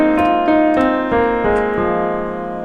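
Melodic notes of a minor pentatonic scale played one after another on a sustained, bell-like instrument, about six evenly spaced attacks ringing into each other, clear and close with no voices.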